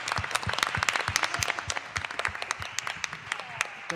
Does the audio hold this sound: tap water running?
no